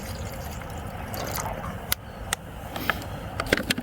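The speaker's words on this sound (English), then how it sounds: "I'm gonna add a little water," Water poured into a small dish at a riverside campsite, a soft trickling splash under faint outdoor background, with a few sharp clinks and taps scattered through.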